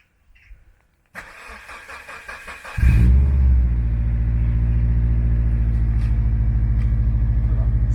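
An ethanol-fueled car engine cold starting in freezing weather: the starter cranks for under two seconds, then the engine catches and settles into a loud, steady rumbling idle.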